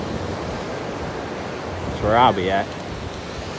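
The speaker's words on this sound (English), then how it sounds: "This is a beach I love" Ocean surf rolling in steadily at Rosarito beach, a continuous broadband wash of waves with wind, while someone talks briefly close to the microphone partway through.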